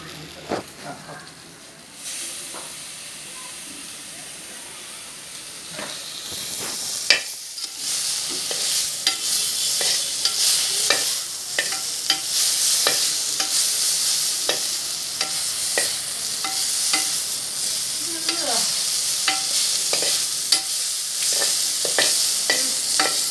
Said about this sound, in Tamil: நல்லா கிளறிடணும்.